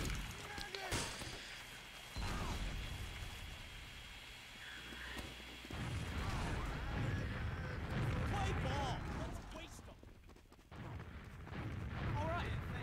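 Gunfire and explosions in the Team Fortress 2 video game, with repeated booms and shots rumbling in the background at moderate volume, mixed with voices talking over them.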